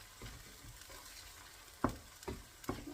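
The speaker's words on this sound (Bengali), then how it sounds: "আদা রসুনটা ভাজা হয়ে গিয়েছে।" Ginger and garlic fry in oil in a home kitchen pan with a low, steady sizzle, while a few sharp clinks and scrapes of a utensil against the pan come through near the end.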